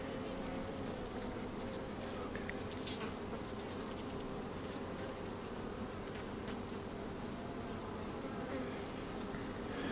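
Honeybees buzz in a dense, continuous drone around an open foundationless hive during a queen cage removal, with individual bees whining closer at moments.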